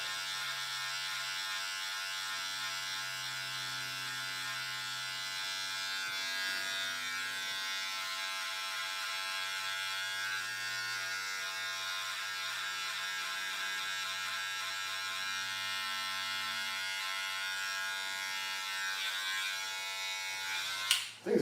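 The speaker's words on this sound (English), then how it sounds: "I got the skin clipper from Gamma." A Gamma skin clipper buzzes steadily and close for about twenty seconds while cutting hair in a home self-fade, its motor drone unbroken and even until a sharp clatter right at the end.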